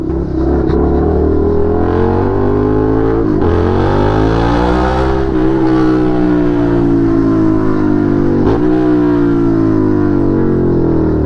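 A Suzuki SV650 motorcycle rides through Manila expressway traffic, its engine loud and close as it revs and shifts, with rising and falling pitch under steady wind rush.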